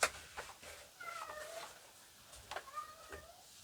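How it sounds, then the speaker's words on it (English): A cat screaming outdoors, letting out two drawn-out wavering yowls separated by a pause, heard from some distance over faint background noise. "My cat is screaming out there."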